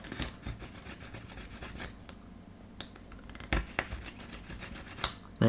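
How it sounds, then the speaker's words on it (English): A harsh rasping, scraping sound of a drill bit grinding through a hole in a plastic 1/200 scale model ship kit, in short bursts separated by quieter pauses. "we can just run the drill back through"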